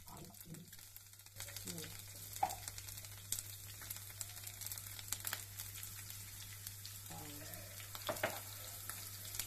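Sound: curry leaves, green chilies, urad dal, mustard, cumin frying in oil

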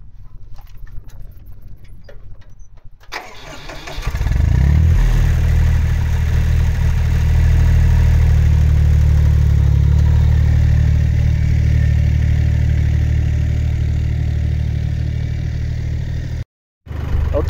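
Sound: tractor engine starting and idling

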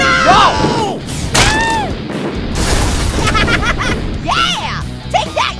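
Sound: cartoon snow cannon firing shots

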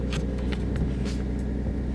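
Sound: inside a car

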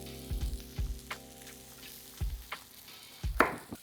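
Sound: chorizo frying in a pan

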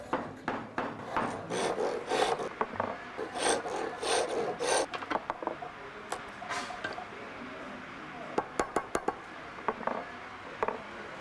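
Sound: bow lathe turning wood with chisel

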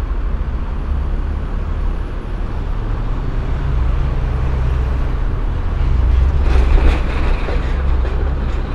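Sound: aerial tram arriving in Manhattan

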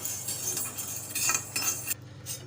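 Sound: sago pearls dry-roasting and stirred in a pan

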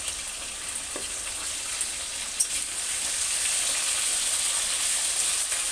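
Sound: round potato slices frying in oil

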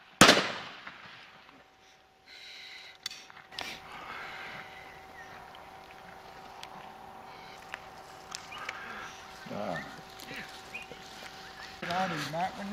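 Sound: shotgun shots at pheasant and partridge

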